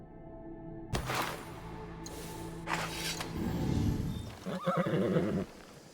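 A horse in a video game whinnies loudly several times, a shrill rising and falling neigh with snorting, close and clear with no talking.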